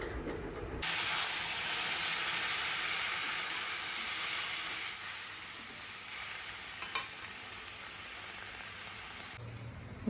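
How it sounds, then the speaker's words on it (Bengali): Water poured into a pan of hot fried spices and chickpeas sets off a loud, steady sizzling hiss of steam that carries on for several seconds, then eases slightly toward the end. "এখন দিয়ে দিচ্ছি পরিমাণ মতো জল।"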